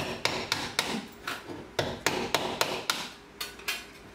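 Hammer blows during a kitchen rebuild, about fifteen sharp, fairly close strikes in an uneven rhythm with brief gaps, moderately loud, with no talk.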